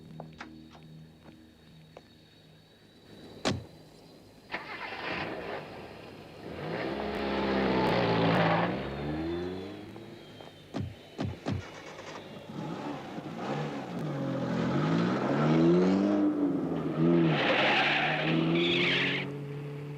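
A car in a 1986 Indonesian film drives hard. Engine revs rise and fall and tires squeal and skid in several bursts, with sharp impacts and swelling loud passages against a faint background hum.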